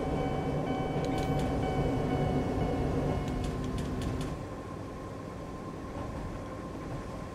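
Rail rumble from a passing train in the Japanese Rail Sim: Journey To Kyoto game, a steady droning roll with brief metallic clicks midway that fades to a quieter hum toward the end, with no talking.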